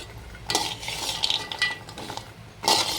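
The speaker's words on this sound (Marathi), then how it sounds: "थोडेसे मनुके पण आपल्याला परतून घ्यायच्यात." Scraping and stirring of raisins in a pan with a faint sizzle underneath, a spatula clinking against metal in short bursts throughout.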